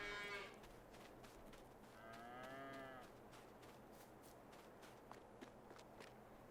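Cows mooing in the video game Farming Simulator 22 on a Swiss farm map, two long low moos close by, with soft footstep-like shuffles and clicks scattered between them.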